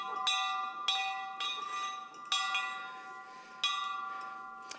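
A hand-rung bell struck about seven times at an uneven pace, each bright, clear tone ringing out and decaying before the next strike. The strikes are loud and close, with no talking.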